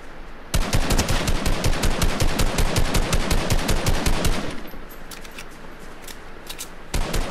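Rapid automatic gunfire in the video game Fortnite, loud and close, a fast unbroken burst of shots lasting several seconds, then a short pause before firing resumes at the end.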